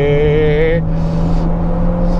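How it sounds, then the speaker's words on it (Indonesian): A Chery Omoda 5 GT all-wheel-drive SUV accelerating hard in sport mode from about 30–40 km/h, its engine note loud and steady inside the cabin, with a rising tone that cuts off and broad road rumble beneath. "Ini kita di dalam mode sport, kita coba akselerasinya."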